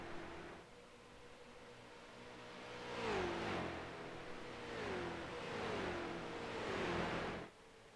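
Pro street stock race cars roar past, engines held at full throttle. Their pitch bends downward in several passes as they sweep by, over a steady wash of track noise, with no speech.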